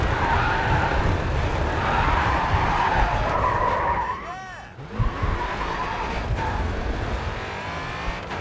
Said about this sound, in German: Driften mag der Wagen nicht.